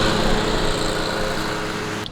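A nearby lawn mower mowing grass runs with a steady, loud engine drone, continuous and unbroken, heard close and alone.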